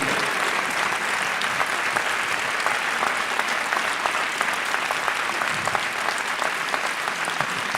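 Dense, continuous applause fills a conference hall, steady and loud throughout with crisp individual claps blending into a constant wash, no speech breaking through.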